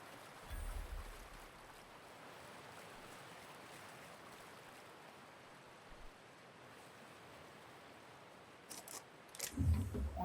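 Steady broadband rush of a waterfall at a hideaway camp in the video game The Outer Worlds, a continuous even roar throughout, with a few brief louder splashes or thuds near the end.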